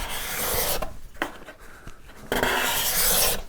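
A freshly sharpened card scraper is drawn across wood, cutting curls. It makes two strong rasping strokes separated by a quieter pause with lighter scratching, and no voices are heard.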